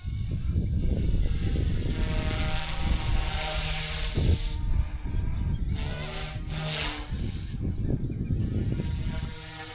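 A GOOSKY radio-controlled helicopter, freshly repaired after a crash, flies and hovers outdoors near trees, its rotor buzz and motor whine rising and falling in pitch as it maneuvers, steady and fairly close throughout.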